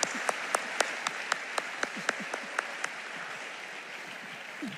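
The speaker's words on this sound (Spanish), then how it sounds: "que le demos un aplauso al pastor Wes." A modest round of clapping for a pastor at a church conference, fairly quiet and thin, with a handful of distinct nearby claps standing out over a soft wash of hands.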